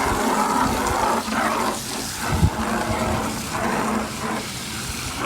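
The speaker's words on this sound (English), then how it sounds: "Then we fill this up with water." Water splashes and gurgles into a paint sprayer as it is filled, a continuous churning pour with small knocks and bumps of handling close up.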